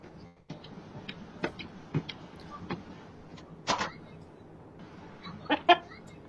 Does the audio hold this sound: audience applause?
no